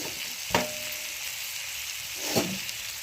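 Cheese corn being stirred with Maggi masala and chilli powder in a pan, with two distinct scraping clanks of a spoon against the pan over a faint sizzle.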